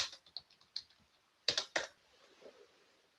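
Typing on a computer keyboard, with a scattered run of light key clicks and then a couple of louder, heavier keystrokes close by, with no talking.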